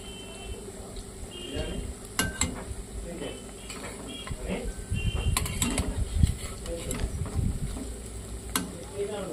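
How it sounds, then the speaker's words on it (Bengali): Vegetable pakoras sizzle in hot oil and are turned one by one, with a steady frying hiss, occasional utensil clinks and scrapes against the pan. "সেই দিকটা এবার তেলের মধ্যে উল্টে দেবো, তাহলে দুটো দিকই লাল করে ভাজা হয়ে যাবে"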